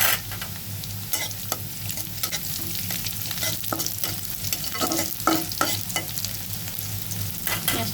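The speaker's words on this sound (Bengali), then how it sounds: "পেঁয়াজটা লাল করে ভাজা হয়েছে" Onion and whole cumin frying in a pan: a constant loud sizzle with repeated scraping and tapping of a spatula stirring, close up and uninterrupted by voices.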